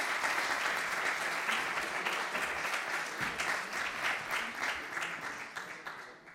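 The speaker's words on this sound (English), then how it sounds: "A big applause." Sustained applause from a conference audience at an entrepreneurship event, dense steady clapping throughout that fades slightly toward the end, no talk over it.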